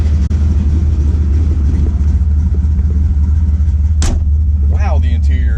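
A slammed 1970 Chevy C10 pickup with a 406 small-block V8 rumbles loud and low throughout, its engine droning steadily as it drives, with a short sharp noise and voices near the end.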